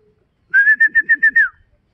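A racing pigeon returning to its loft during a derby race, heard as a clear whistled call of about six quick, evenly spaced pulses close by, with faint low sounds beneath.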